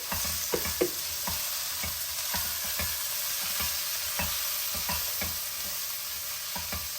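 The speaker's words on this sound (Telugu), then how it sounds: "ఒక టూ స్పూన్స్ ధనియా పౌడర్ వేసాను బాగా కలిపేసేసుకొని" Coriander powder is stirred into rajma curry frying in a pan, with a steady sizzle and a regular run of spoon scrapes and clinks repeating about every half second.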